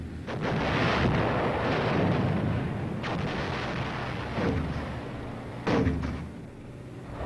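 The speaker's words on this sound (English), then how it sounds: "From inside the personnel carrier, we hear a barrage of shell fire laid on the objective." Artillery shell fire from a barrage laid on a hilltop objective, heard from inside an armoured personnel carrier as a continuous heavy rumble with several distinct booming impacts.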